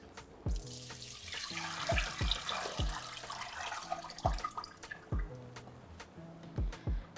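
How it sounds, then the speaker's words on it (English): Water drains from a pot into a kitchen sink with a steady rushing pour, punctuated by repeated sharp metallic knocks and clanks of the pot against the basin, close and fairly loud. "you want to drain out your water into your sink"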